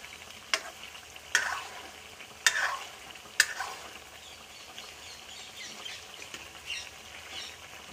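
Fresh turmeric curry stirred in a kadai, a ladle scraping and knocking against the pan in four sharp strokes roughly a second apart over a steady soft sizzle, close and clear with no talk.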